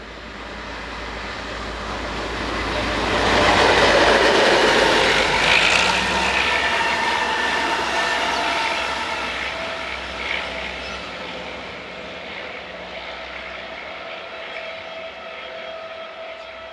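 Class 664 diesel locomotive 664107 hauls the 0850 Ljubljana to Budapest passenger train past, a broad rumbling engine roar that swells to a peak midway and then slowly fades as the train moves away, with no talk.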